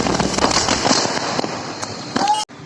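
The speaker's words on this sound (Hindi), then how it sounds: "किसान संघर्ष समिति द्वारा कलेक्ट्री के बाहर पटाखे छोड़कर खुशी जाहिर की" Firecrackers crackle and pop outside a district collectorate during a farmers' celebration, a dense rattle of sharp bursts with a few louder cracks, ending abruptly; the crowd noise is heavy throughout.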